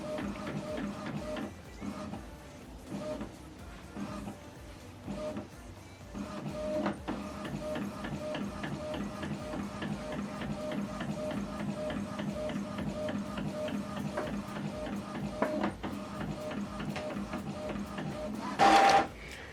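An Epson printer printing a photo, running with a steady mechanical whir and hum, rhythmic feed clicks and carriage passes, and a brief louder burst near the end, with no one speaking.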